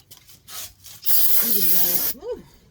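Aerosol cleaner sprayed onto the wheel hub of a Ram 3500 with a bad wheel bearing during brake work, a loud steady hiss of about one second, with low talk before and after.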